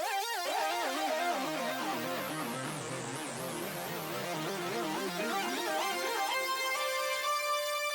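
A bright synth lead with strong wobbling vibrato plays a sustained melody, layered tones shimmering together, steady and loud without any talking.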